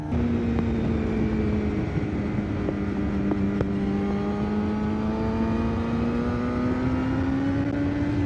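A 750 cc motorcycle engine hums steadily and close by, its pitch rising smoothly as it revs up over several seconds, with no voices.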